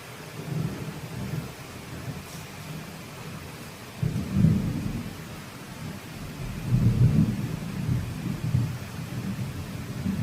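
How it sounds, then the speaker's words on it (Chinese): Heavy rain on a farm hisses steadily while deep rumbles of thunder roll in and out, several low swells in a row. "又是下大雨哦"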